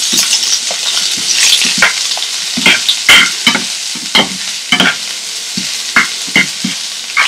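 Finely chopped medium-sized onion added to popping spices in a pan for Malvan chicken, sharp sizzles and scraping stirs in irregular bursts, close and fairly loud, with no talking.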